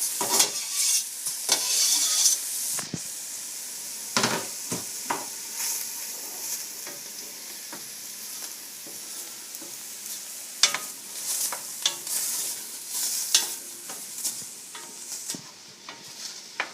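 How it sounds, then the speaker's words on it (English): Onions and garlic frying in a pot for tomato, apple, pear and rhubarb chutney, a loud continuous sizzle broken by repeated scraping stirs of a spoon, close up with no talking. "You can hear the onions simmering, making a lot of noise."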